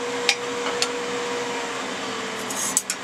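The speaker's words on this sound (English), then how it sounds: "Then I stop the lathe." A wood lathe spins steadily while turning a wooden tool handle, giving a constant mechanical hum with a few faint clicks and scrapes near the start and end. No one speaks.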